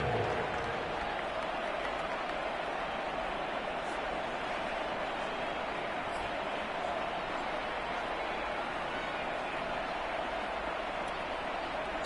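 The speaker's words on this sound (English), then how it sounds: "It's worthy of some applause." Steady crowd applause and cheering from a PS4 football video game rolls on without pause, a dense wash of clapping at moderate volume.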